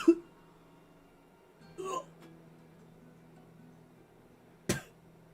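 A voice imitates a sickly cough during a tabletop role-playing session: a short cough, then a rougher hacking cough, then a sharp final cough, each separated by quiet pauses.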